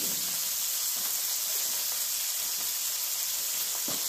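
Steaks fry in a pan on an old wood-burning cook stove, a constant close hiss of sizzling fat with a few faint pops, heard alone.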